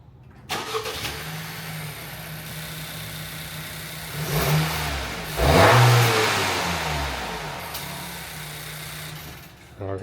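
A 2023 Acura Integra with a blow-off valve spacer starts and idles, then its engine rises in one strong rev near the middle before settling back to idle, close and loud, with brief talk nearby.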